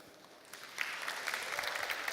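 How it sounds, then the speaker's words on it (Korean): An audience at the close of an art lecture session breaks into applause, starting faint and swelling into steady, dense clapping from a room full of people. "다시 한번 큰 박수 부탁드리도록 하겠습니다"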